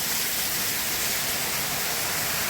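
Heavy monsoon downpour pours steadily with no break, a dense loud hiss filling the whole stretch, near and unbroken, with no voices.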